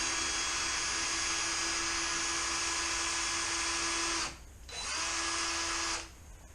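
A power drill drives screws into an X-Maxx RC car, whining steadily at full speed for about four seconds, stopping briefly, then running again for a second shorter burst.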